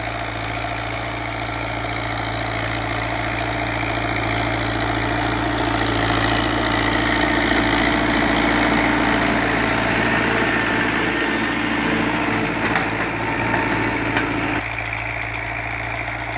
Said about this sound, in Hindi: तो जी दोस्तों ये ट्रैक्टर चल रहा है